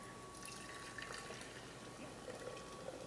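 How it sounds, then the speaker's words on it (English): Hot water being tipped out of a teapot before serving chai, a steady close splashing and trickling stream of liquid running for a few seconds with no talk over it. "I'm just going to spill out all the hot water that's in here so I can pour my tea in here"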